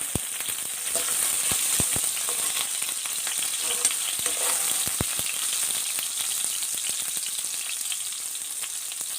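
Finely chopped onions sauté in hot oil with bay leaf and cinnamon, a close, constant sizzle broken by frequent scraping clicks of a spoon stirring the pan.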